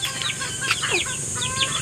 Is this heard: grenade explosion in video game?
no